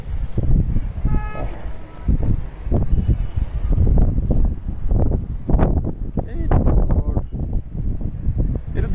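Strong wind blows across the upper level of Jaisalmer fort, buffeting loudly in gusty bursts against the microphone, with people talking underneath.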